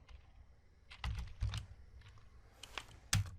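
A computer keyboard clicks faintly in short, irregular bursts of keystrokes and pauses, up close in a quiet room, with no voices.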